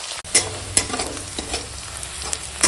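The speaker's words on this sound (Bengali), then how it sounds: "দেখো ওই তেলেই এখন দিয়ে দেবো পেঁয়াজ কুচো, লঙ্কা কুচো আর রসুন থেতো, দিয়ে সব একসঙ্গে ভেজে নেব।" Chopped onion, chili and crushed garlic fry in hot oil, a constant sizzle punctuated by sharp scraping clicks as the pan is stirred at irregular intervals.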